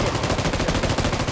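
Sustained rapid automatic gunfire in a video game, loud and continuous with dense overlapping shots throughout and no talking.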